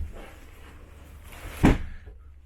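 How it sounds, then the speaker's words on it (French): RV drawer in a 2021 Grand Design Imagine XLS 22MLE travel trailer sliding on side-mounted rails, a short soft slide ending in one muffled thump, faint against a quiet room. "on a même un tiroir qui coulisse sur des rails qui ont été installés de chaque côté"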